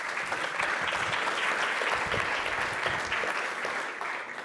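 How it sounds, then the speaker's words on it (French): Audience applause fills a conference room after a speaker is introduced at a tech talk on Terraform, a steady, dense clapping that holds at an even level throughout with no voices. "Mathieu, sous vos applaudissements."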